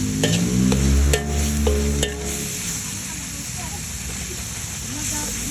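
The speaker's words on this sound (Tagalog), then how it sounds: "Habang sinasangkot na ko yung giniling" Ground meat sautéed in a pan, later joined by mixed vegetables with bean sprouts: a steady, close sizzle and stirring scrape. A voice talks over it during the first two seconds, then the frying continues alone.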